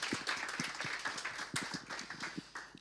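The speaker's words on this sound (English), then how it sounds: "Another applause for them." Applause from an audience at an awards ceremony, steady clapping lasting the whole moment at a moderate, somewhat distant level, with no one speaking over it.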